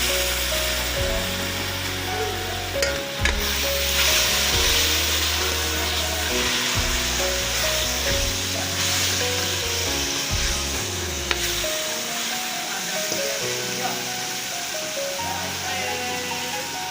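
Tomatoes tossed into a pan of frying potatoes and radish pods set off a steady, close sizzle that runs unbroken throughout, with a faint tonal hum underneath.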